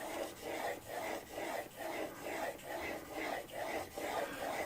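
A plane blade is honed on sharpening stones with about ten steady, even back-and-forth rasping strokes, close and fairly quiet, with no talking.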